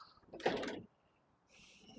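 Wooden drawers in a 2025 Buccaneer Barracuda caravan slide shut with one close, fairly loud rumbling thud, followed by quiet and a faint hiss.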